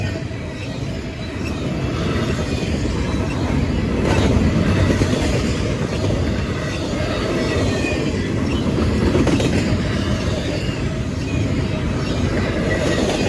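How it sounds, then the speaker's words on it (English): Norfolk Southern freight train passing at Bayview Road in Blasdell, New York: a loud, continuous roar of rolling cars with faint wheel clatter that holds steady throughout. "that would be my second Norfolk Southern train this coming on."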